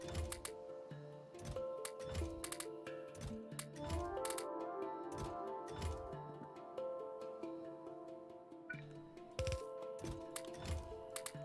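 Rapid clicky keystrokes on a computer keyboard during a Factorio session, irregular bursts of taps over steady background game music and hum, fairly close and moderately loud.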